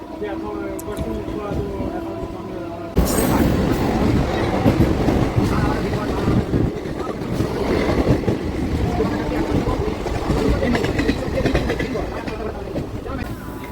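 A local train on the Howrah–Tarakeswar line rumbles loudly along the rails, starting abruptly after a quieter stretch, with continuous rattling and clacking close by and some voices in the background.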